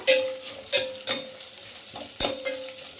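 Curry leaves hit hot oil in a pan, giving short sputtering sizzles mixed with clinks and scrapes of a spoon stirring, fairly close and with no talking.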